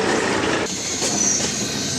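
A tram in Bulgaria rolls along with a loud, steady rumble of wheels on rails and a brief high squeal, heard from inside the car.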